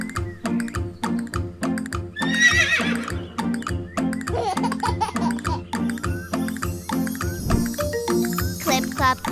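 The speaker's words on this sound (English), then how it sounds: "Clip, clop, clip, clop, clip, clop, clip, clop. Up now, little horsey." A children's farm-animal song includes a horse's whinny and a rhythmic clip-clop of hooves. They sound clearly and up close over bouncy music, with regular, evenly spaced hoof beats and singing.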